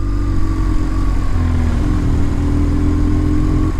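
A motorcycle rides through city traffic with a loud, steady engine drone close up, the tone shifting slightly as it holds speed, with no talking.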